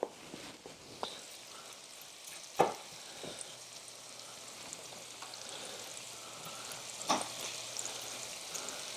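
Shrimp seasoned with Old Bay and butter sizzling in a pan, a steady soft fry hiss with a few sharper pops and crackles, close and with no talk.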